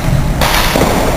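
A hard lacrosse shot gives one loud whip-like crack and thud right up close, then a sustained roar of crowd and field noise.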